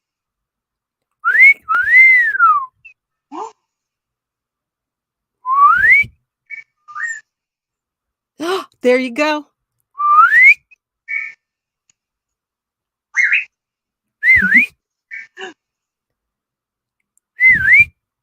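A pet bird whistles in short rising and falling phrases, repeated in bursts with pauses between them, close and clear, with brief human whistling alongside and a few spoken words.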